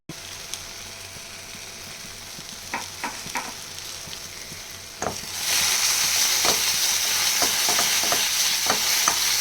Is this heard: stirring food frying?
yes